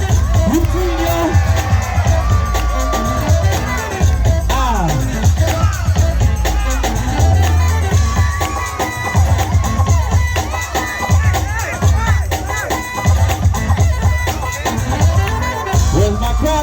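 Crowd at a dance battle cheers, whoops and shouts continuously over pounding music, loud and close, with an emcee's voice rising above the din.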